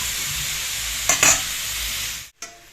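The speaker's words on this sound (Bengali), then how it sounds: "শুধু লবণ দিয়ে ভাজবো, হলুদ দেবো না।" Mixed vegetables with only salt stir-fried in a pan, giving a steady broadband sizzle and fry with spatula stirring scrapes near the middle and a brief cut-off near the end.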